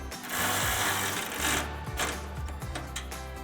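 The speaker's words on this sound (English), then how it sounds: "take a 13mm socket to tighten it down" A 13mm socket works a bolt on a U-clip exhaust hanger for a Jeep Gladiator JT dual exhaust, giving close, steady mechanical whirring with repeated clicking pulses, heard alone without talk.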